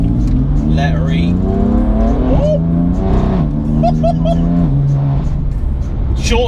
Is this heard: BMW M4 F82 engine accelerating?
yes